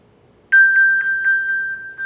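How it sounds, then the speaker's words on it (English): An iPhone pings after a tap on an Apple Watch: a sudden, loud bright chime pulses about six times in quick succession, then settles into a steady ringing tone, alone with no speech. "you just tap it and it pings your phone"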